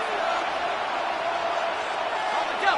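A stadium crowd in the Madden 26 football video game gives off a steady, roaring cheer that stays loud and continuous, with a brief whoop near the end.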